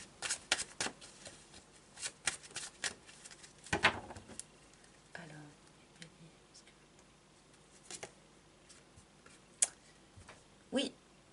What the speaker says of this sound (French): Je vais prendre quelques cartes de tarot pour voir si on peut nous éclairer un peu plus encore.